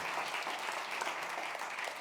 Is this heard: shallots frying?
no